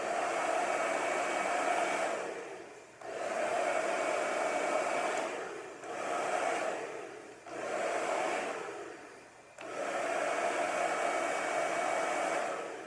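A hair dryer fitted with a diffuser runs at medium heat and medium speed on naturally wavy hair, giving a steady, even rushing drone broken into rhythmic swells and dips as the hair is scrunched. No voices.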